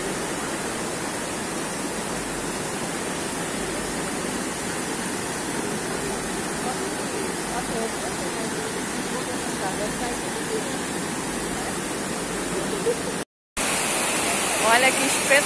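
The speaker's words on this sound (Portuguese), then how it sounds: "Olha que espetáculo de cachoeira." The Tamanqueiro waterfall in Santo Aleixo, Magé, roars with a continuous broadband rush of falling water, steady and close, with a brief dropout near the end before the roar resumes.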